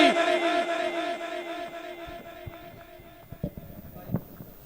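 A crowd at a devotional naat gathering shouts the Nara-e-Haidri slogan in unison, a loud massed bellow that fades into scattered voices and occasional thumps.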